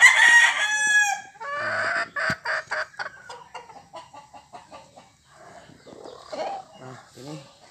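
A Filipino rooster lets out a loud, close crow at the start, followed by a string of shorter clucks and chattering calls that grow fainter and more scattered.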